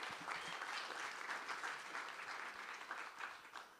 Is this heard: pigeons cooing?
no